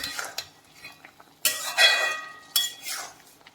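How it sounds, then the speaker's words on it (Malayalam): Curry being stirred in a cooking pot with a spoon, scraping and clinking against the metal in a few distinct strokes with a soft sizzle underneath, close and fairly quiet, no talking. "ഇതൊന്ന് നല്ലപോലെ ഇളക്കി കൊടുക്കാം എല്ലാ ഭാഗവും ഒരുപോലെ വെന്ത് കിട്ടണം"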